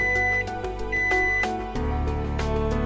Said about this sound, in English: Suddenly, the sound of an alarm resounded throughout the room.